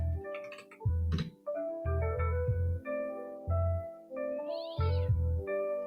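A cat meow sound effect plays as a series of loud, drawn-out meows with pauses between them, each one tonal and whining, heard alone with no talking over it.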